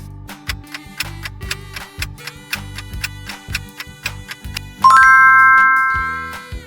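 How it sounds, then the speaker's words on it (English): A doorbell sounds a bright two-tone ding-dong chime after a series of rhythmic ticking clicks, in a children's word-guessing game, the chime ringing out loud and decaying slowly. "Doorbell."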